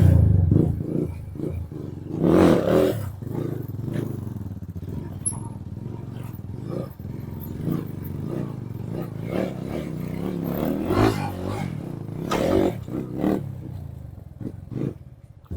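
An Apache motorcycle is ridden in a tight circle for a basic leg-drag stunt, its engine revving in repeated surges and dips with some rattling clatter, moderately loud throughout.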